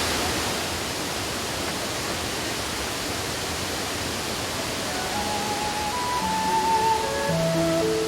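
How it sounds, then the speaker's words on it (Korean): A waterfall in Laos roars steadily with dense broadband rushing water, loud and continuous throughout, with soft music tones entering near the end. "폭포 소리에 몸과 마음이 시원해진다."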